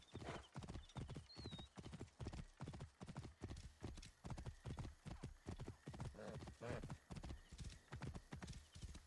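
Horse galloping in the video game Assassin's Creed Origins, a fast, even rhythm of loud hoofbeats running throughout, with a short whinny near the start.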